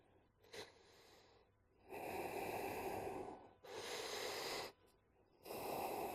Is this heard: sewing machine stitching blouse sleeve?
no